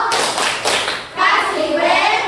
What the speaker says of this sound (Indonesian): Kita kasih tepuk tangan dulu. Tepuk tangan.